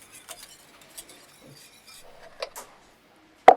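A spoon scrapes and taps softly around a saucepan of cooking cream in a quiet kitchen, ending with one sharp clink of metal.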